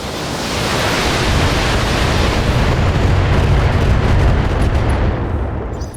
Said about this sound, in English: so have some missiles.